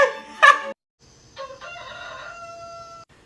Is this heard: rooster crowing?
yes